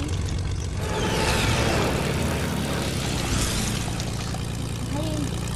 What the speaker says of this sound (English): I'm in a plane.